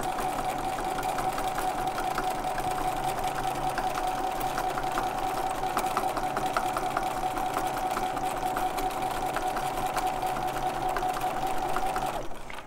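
Steady, continuous whir of a domestic sewing machine stitching a quilting line through a quilt-as-you-go block, running unbroken at even speed and stopping abruptly at the end.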